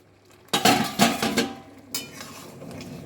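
Metal pot of Bengali prawn curry lifted off a kitchen stove, giving a few sharp clanks and scrapes of cookware close up, followed by a softer clink.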